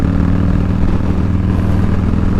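A motorcycle being ridden around town, its engine giving a steady, close, loud drone with a low throbbing tone and some wind noise, and nobody speaking over it.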